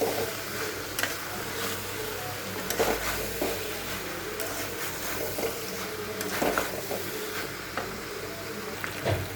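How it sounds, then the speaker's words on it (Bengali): Jackfruit curry with ground garam masala is sautéed and stirred in a pan, giving a low steady sizzle broken by repeated scraping and clinking strokes of a spoon. "গুঁড়ো গরম মশলা দিয়ে এটাকে আমি এখন ভালো করে কষিয়ে নেব।"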